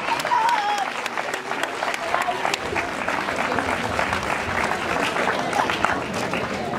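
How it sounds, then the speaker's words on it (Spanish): Crowd applauding steadily outdoors at a running race award ceremony, continuous clapping with a few cheers and voices mixed in throughout. "Un aplauso para Jonas, Diego, Unai, Pablo, Enol y Samuel."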